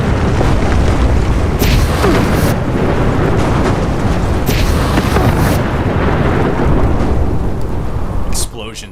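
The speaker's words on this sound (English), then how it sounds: "Explosions are awesome." Continuous loud booming blasts in Fallout 76 rumble one after another for several seconds, dense and roaring, cutting off abruptly near the end.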